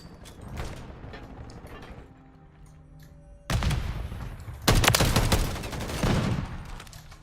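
Gunfire in Call of Duty: Modern Warfare III, with dense overlapping bursts of shots and mechanical clatter that grow louder partway through and peak in a heavy volley.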